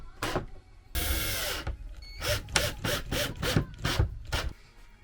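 A wooden support piece for full-length overhead cabinets being screwed into place, heard as a series of short, rhythmic grinding bursts close by after one longer continuous rasp, with no talk.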